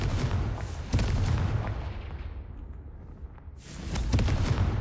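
In Hogwarts Legacy, Confringo spell explosions burst out twice, one sharp boom early on and another rolling blast toward the end, each fading into a low rumble.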